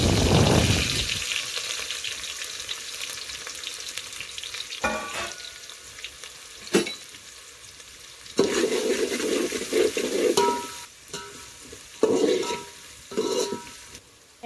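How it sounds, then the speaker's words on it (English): Fresh onion and chili fry in oil over a village wood-fired chulha, starting with a loud hiss as they hit the pan, then a steady sizzle broken by several bursts of stirring and scraping, close by. "And now I am adding fresh onion and chili."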